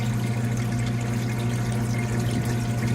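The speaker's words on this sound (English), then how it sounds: "water flowing across the evaporator behind the sheet" Water runs steadily across an ice machine's evaporator beneath a constant mechanical hum, an even, unbroken wash of flowing liquid.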